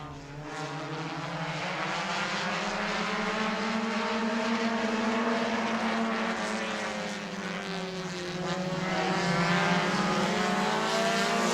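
Stock cars at a weekly short-track race in Auburndale running three wide on the opening lap: a loud, continuous layered engine roar with shifting pitches that swells steadily, with no talk.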